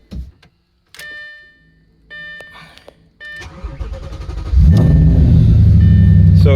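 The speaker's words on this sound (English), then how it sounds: "I'm gonna try to start the car." An Audi RS4 cranks with a few short starter bursts and clicks, then catches and settles into a loud, close, steady idle with a low rumble.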